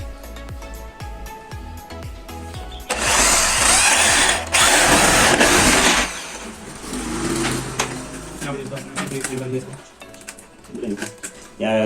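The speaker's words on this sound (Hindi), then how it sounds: "अभी इसको ड्रिल कर देंगे" Power drill boring into a wooden drawer to fit a lock, a loud whining drill burst lasting a few seconds, then quieter handling noises with a voice talking and birds cooing nearby.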